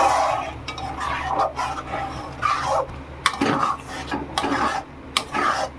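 A spoon scrapes and stirs thickening pea dal in a pot, giving soft rasping strokes in an irregular rhythm with occasional sharper knocks, close and fairly quiet.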